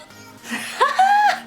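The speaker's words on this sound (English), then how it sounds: "I can hear Coco meowing." A cat meows nearby, a drawn-out rising and falling cry, loud and close.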